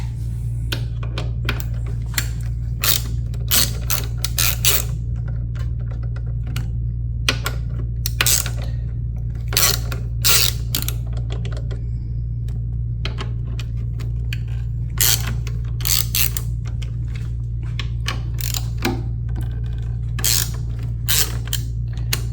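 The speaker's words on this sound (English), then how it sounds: "Remove the fuel tank by removing these 4 screws." Metal screws being removed from the fuel tank of a Kawasaki ZX-4RR motorcycle: repeated sharp clicks and rattling ticks of a hand tool, close and irregular, over a steady low background hum.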